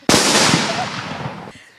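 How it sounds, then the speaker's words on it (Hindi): A controlled detonation of an IED by a bomb disposal team: a single sharp explosion bursts out suddenly, then its rumbling roar decays over about a second and a half before cutting off. "तो ये आवाज़ आपने सुनी, आईडी विस्फोट करा दिया गया"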